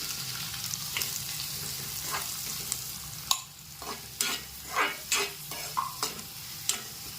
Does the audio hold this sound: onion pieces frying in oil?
yes